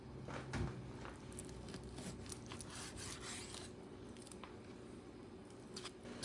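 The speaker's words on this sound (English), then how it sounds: "What I'm going to do, I'm going to cut it in chunks." Knife cutting a lamb neck into chunks for Puerto Rican mondongo soup: faint, continuous rasping and scraping strokes close by, with no talking.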